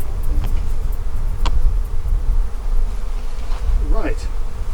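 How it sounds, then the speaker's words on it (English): A steady, dense buzzing of many honey bees close by at an open hive, with a few individual bees droning louder as they fly past. "These are the bees you're going to be working with."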